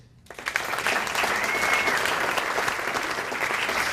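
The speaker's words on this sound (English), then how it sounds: "Let me hear you clap if you have kids" Comedy roast audience breaking into clapping, a loud burst that starts abruptly and holds as a full, steady applause from a large crowd in a room.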